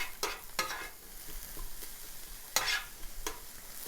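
Onions for a Philly cheesesteak fry and brown on a hot surface as they are stirred, giving a soft steady sizzle broken by several sharp scraping stirs; no one speaks.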